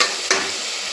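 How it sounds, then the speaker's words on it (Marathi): Onion frying in oil with a pinch of salt makes a brief, steady hiss, broken by one quick scrape of stirring partway through. "कांदा थोडासा फ्राय करून घ्यायचा."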